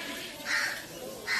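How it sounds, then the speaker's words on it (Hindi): Two harsh caws from a crow ring out a short distance away, the second cut off at the end, over quiet outdoor background. "और कौवा बोल रहा है"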